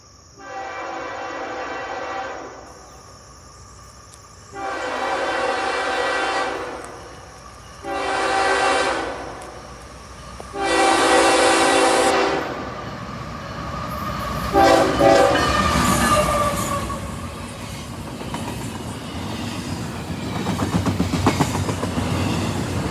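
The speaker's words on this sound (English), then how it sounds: "I set out to the CSX Riverline at Harrington Park, New Jersey, milepost 16, to catch some trains" CSX trains pass on the River Line at Harrington Park, New Jersey, on a summer morning, with several long, loud horn blasts followed by the rumble and clickety-clack of passing railcars, close and with no talk.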